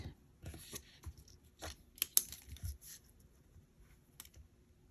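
Scrapbook paper torn by hand for a planner page, a handful of short dry rips and crackles spread across a quiet background, some sharper bursts close by.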